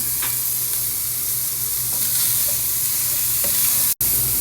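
Chicken pieces sauté with onion in a hot pan, giving a steady loud sizzle with scattered scrapes and stirs of a utensil, one brief sharp dropout near the end.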